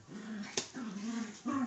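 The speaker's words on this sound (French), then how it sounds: "Pardon pour les petits chiens." Small dogs whimper and growl up close in a low, continuous grumble broken by a sharp yip, with faint talk in the background.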